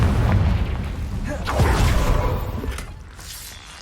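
Confringo blasting spell cast in Hogwarts Legacy, a deep booming burst with crackling, shattering debris that swells and then tails off over a few seconds.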